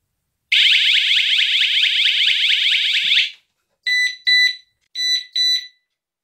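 Smanos X300 smart home alarm siren blares a loud, warbling electronic wail for nearly three seconds, then cuts to four short sharp beeps in two pairs, close up with no talking.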